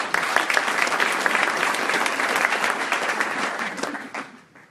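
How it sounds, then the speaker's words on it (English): At a mayor's State of the City address, a large audience applauds in sustained, dense clapping that holds steady, then fades out near the end. "We applaud these young men for their courage to stand up."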